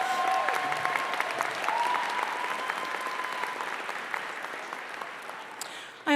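An indoor crowd at a December college commencement applauds steadily for the singers of the national anthem and alma mater, a dense sustained clapping that slowly thins toward the end.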